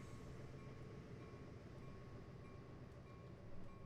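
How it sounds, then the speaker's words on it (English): A video game mixed freight train rolls by at Marias Pass with a continuous low rumble and rattle, a faint whine above, the noise swelling slightly at the end. "Another mixed freight train."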